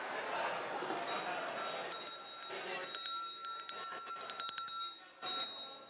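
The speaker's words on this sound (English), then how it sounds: "So, that's my meditation bell." Meditation bell rung indoors in a talk setting, several bright chiming strikes with ringing tones that linger and overlap, following a stretch of someone speaking.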